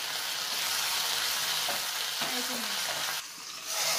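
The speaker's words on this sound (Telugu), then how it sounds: "ఇందులో జీలకర్ర, ఎండుమిర్చి, కరివేపాకు వేసి వేయించుకోవాలి." Tempering of cumin, dried red chillies and curry leaves frying in hot oil, a dense bright crackling sizzle, close and continuous, with a few stirring scrapes.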